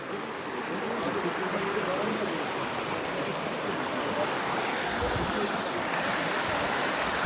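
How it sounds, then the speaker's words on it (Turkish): Steady rushing water, like small cascades splashing nearby, a continuous broadband wash with no pauses. "Minik minik şelaleleri de var burada"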